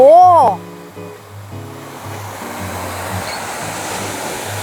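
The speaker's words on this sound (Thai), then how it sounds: "นี่น้ำตกปีล็อกน้ำตกปีล็อก" Pilok waterfall in Thailand in the rainy season, a steady rushing roar of falling water that grows fuller after a loud opening voice, with people talking over it.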